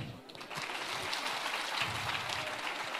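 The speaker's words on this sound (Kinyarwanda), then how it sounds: "mukoma amashyi" Dense, continuous audience applause, many hands clapping steadily at close range with no break and no clear voices over it.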